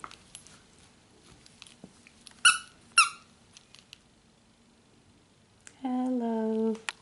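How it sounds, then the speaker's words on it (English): A dog's squeaky toy gives two sharp squeaks close together, then a longer, drawn-out squeak after a pause, with soft handling noises in a quiet indoor room. "She plays with her squeaky toy very well."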